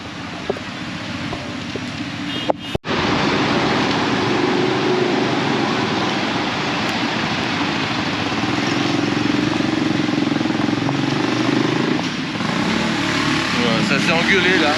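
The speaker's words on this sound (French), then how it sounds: "Vous entendez la moto là?" A motorcycle engine drones steadily in a traffic jam on a street in Vietnam, forming a continuous mid-level rumble with other traffic noise, and voices talk over it throughout.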